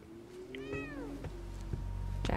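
A cat gives one clear, rising-and-falling meow at moderate distance, followed by a few soft knocks and rustles in a quiet room.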